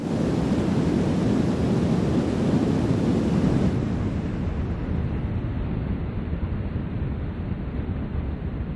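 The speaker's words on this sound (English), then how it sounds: "That thunder is the sound of 41 million gallons per minute plunging straight down 178 feet." A loud, steady roar of Niagara Falls, water plunging 178 feet, dense and continuous, with a slight drop in intensity partway through.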